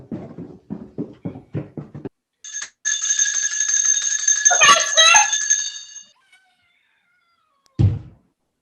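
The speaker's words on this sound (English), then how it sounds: "Ring the doorbell. I'll hear it ring it loud." A loud electric doorbell rings in one long, buzzing peal after a series of footsteps, followed by a single heavy thump, in a Sherlock Holmes radio drama.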